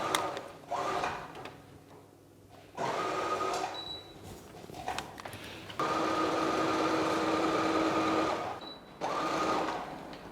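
A sewing machine stitching pleats on a skirt, running in several bursts of steady whirring a few seconds each, separated by short pauses and small handling clicks, close up.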